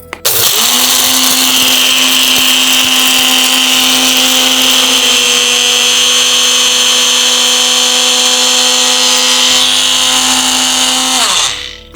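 A mixer grinder whirs through a blend of kalarchikai, pepper powder and asafoetida, a loud, steady high-pitched motor drone that runs for about eleven seconds before spinning down and stopping.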